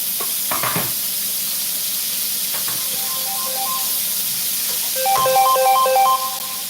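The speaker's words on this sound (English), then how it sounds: "Put the smoked sausage up in here." Smoked sausage sizzles in a pan for a Spanish-style pasta dish, a steady hiss with occasional stirring clatter, while a beeping tone sounds near the end.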